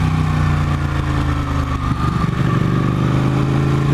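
A Ducati 899 Panigale superbike on a slow ride along potholed roads, its engine a close, steady low throb with a slight dip and pickup in revs partway through.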